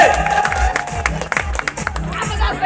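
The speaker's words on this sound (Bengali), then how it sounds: "ওদের জন্য একটা তালি হবে তো, জোরসে হাত উঁচু করে তালি হবে" An audience claps and cheers with raised hands at a crowd event, a loud dense burst of applause with shouts mixed in, close and continuous.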